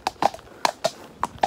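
Hooves of a ridden horse clip-clopping on a hard surface, about six quick, close, crisp strikes in an uneven gait.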